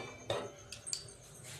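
Metal lid set onto a pot of kadai paneer on the stove, a single sharp clink followed by a few lighter metallic taps, quiet and close.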